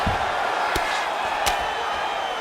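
Arena crowd noise from a UFC video game women's grappling bout, a steady loud roar of cheering with a couple of sharp impact thuds cutting through, no voices distinct.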